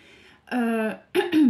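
A short throaty cough-like sound, then a pause and two quick harsh coughs close by, with no other sounds around them.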